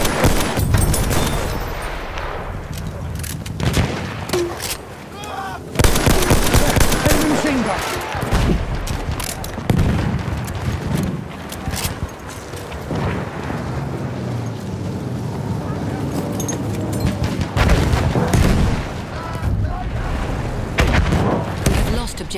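Battlefield 1 gunfire crackles in dense, rapid bursts alongside heavy booming shots throughout a chaotic battle, with soldiers shouting over the din.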